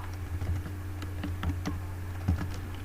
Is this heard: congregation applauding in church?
no